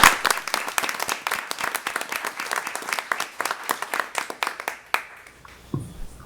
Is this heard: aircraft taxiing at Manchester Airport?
no